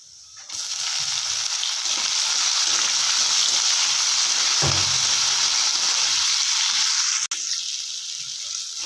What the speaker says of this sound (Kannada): ಒಂದು ನಿಮಿಷ ಕಡಲೆಬೇಳೆ ಎಣ್ಣೆಯಲ್ಲಿ ಸ್ವಲ್ಪ ಹುರಿ